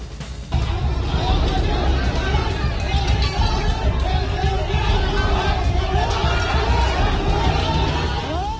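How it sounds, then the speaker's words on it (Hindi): An unruly mob chasing medical staff in the street in Indore, a dense roar of shouting and crowd noise that starts abruptly and stays loud throughout, with traffic sounds mixed in. "देखिए किस तरह बेकाबू भीड़ डॉक्टरों और उनके सहायकों को दौड़ा रही है।"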